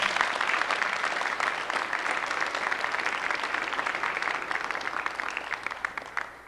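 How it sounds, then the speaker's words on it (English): Applause from a martial arts seminar audience, steady dense clapping throughout, fairly loud and even before tapering slightly at the end, with no talk over it. "So, give him a round of applause."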